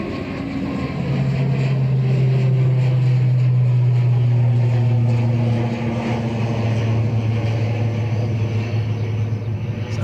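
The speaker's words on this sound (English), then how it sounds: "Audio wise, the aircraft can be heard well, I hope." Jet airliner at Dublin Airport rolling for departure on runway 28 right, a loud, steady engine roar with a deep droning tone that swells near the start and holds throughout, no voices over it.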